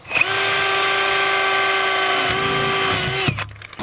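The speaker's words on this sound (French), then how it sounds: "je fixe maintenant le panneau dans le rail de sol avec les vis V1" A power drill whines steadily at high speed for about three seconds, driving self-drilling screws through a garden shed panel into a floor rail, then winds down and stops, close and loud with no talking.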